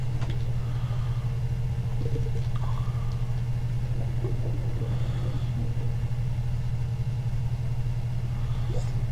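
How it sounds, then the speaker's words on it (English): A motorbike engine in the video game Empyrion rumbles with a steady low idle that holds unchanged throughout, with faint background noises above it. "Yeah, motorbike over here."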